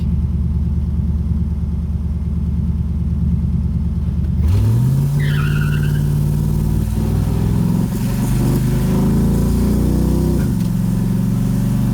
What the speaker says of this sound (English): Think it'll spin tires?